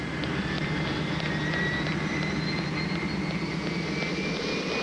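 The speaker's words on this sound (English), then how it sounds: "NASA has a high-altitude jet specially designed to gather space dust." A high-altitude NASA jet aircraft flies steadily overhead, its engine a continuous broadband roar with a faint whine, holding constant loudness throughout with no voices.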